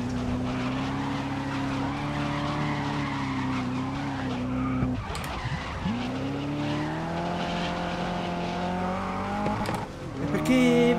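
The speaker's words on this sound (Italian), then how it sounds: "la macchina non fa fatica ad accelerare" Ford GT40 race car in the GRID 2019 racing game, a steady loud engine drone climbing in pitch as it accelerates, with tyre squeal and a brief gear-change dip midway, no talk.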